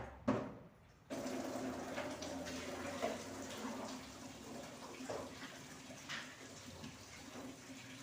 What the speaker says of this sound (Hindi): यहाँ से पानी से साफ़ कर दूँगी